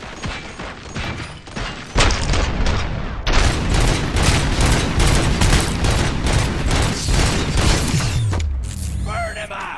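Dense video game gunfire from Robocop: Rogue City erupts in rapid, loud bursts and booms, sustained volleys rattling on before tapering into mechanical noise at the end.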